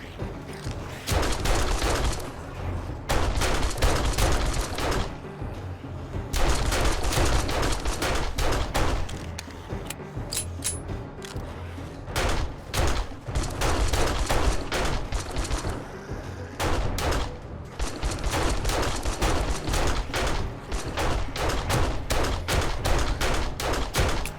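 Gunfire in 7 Days to Die rings out as dense repeated bursts of sharp shots for nearly the whole stretch, loud and close, pausing only briefly between volleys.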